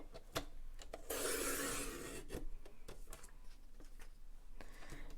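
Green cardstock being cut to 4 7/8 inches wide for a paper craft project: a quiet, close rasping slide lasting about a second, with faint scrapes and soft taps before and after.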